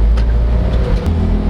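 A 2023 Toyota LiteAce panel van's engine pulls hard and loud from inside the cabin, a deep steady drone that climbs slightly as it accelerates, with no talking over it.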